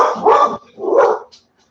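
A dog barks twice, two loud, close, rough woofs separated by a short pause, standing alone without talk during a Friday night live stream at home.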